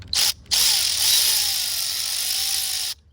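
A 10mm ratchet wrench clicks steadily while loosening the small carburetor on a cheap mini bike, a brief burst followed by a longer run of fine, rapid close-up ratcheting.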